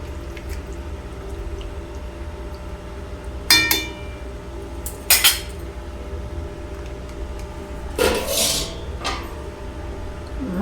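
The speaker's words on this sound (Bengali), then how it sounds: "টমেটোটা দিয়ে আমি কড়াইটা চাপা ঢাকা দিয়ে দেব।" A lid set over a wok of simmering bottle gourd stem and vegetable curry, with a few sharp metallic clinks and rattles spread out at intervals, close and moderately loud over a low background hum, with no talk.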